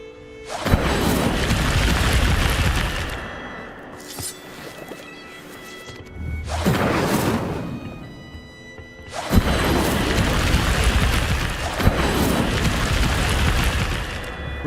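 The Incendio fire spell in Hogwarts Legacy erupts in three loud, roaring blasts with crackling fire, each one swelling and then fading into quieter pauses.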